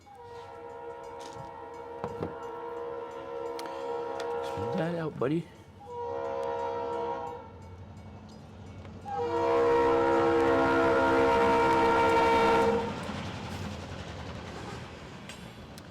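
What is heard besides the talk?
train horn sound effect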